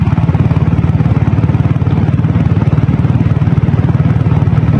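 A Royal Enfield Bullet motorcycle with a diesel engine runs with a steady, loud, close thumping beat, each firing pulse evenly spaced in a fast chugging rhythm, with no talk over it.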